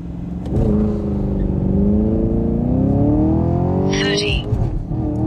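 Chevy Camaro 2SS 1LE accelerating hard from inside the car, a loud engine rising steadily in pitch, a brief dip at the no-lift shift, then pulling on; a voice is heard briefly.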